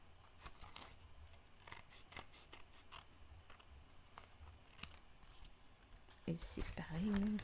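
Scissors snip away excess material in a run of quick, light clicking cuts, close and fairly quiet, with a louder handling noise and a brief voice near the end.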